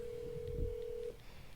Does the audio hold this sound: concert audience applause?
no